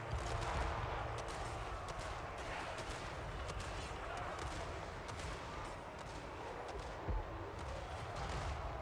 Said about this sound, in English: It's going to keep dropping bombs, isn't it?